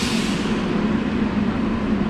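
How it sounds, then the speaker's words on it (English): Steady rumble and hum inside a moving airport monorail tram heading to the D gates at the Las Vegas airport, continuous throughout with no talking. "this is the tram that goes to D gates"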